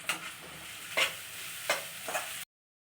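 A spoon stirs fried onion, grated coconut and coriander leaves in a hot pan, with four distinct scraping strokes over a faint sizzle before an abrupt cutoff.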